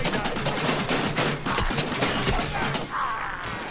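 Gunfire in the video game Vermintide 2: a dense run of sharp shots mixed with crashes and clattering impacts, moderately loud and fairly continuous.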